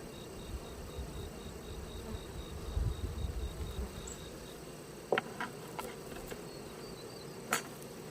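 Honeybees buzzing around a beehive outdoors, a steady low drone of many insects with a few sharper clicks and taps, moderately quiet and without voices.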